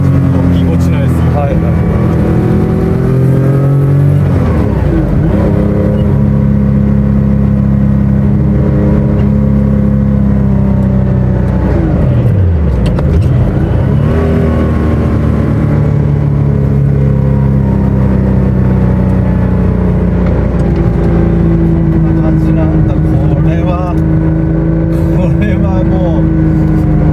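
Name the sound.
Porsche 911 Narrow engine revving while driving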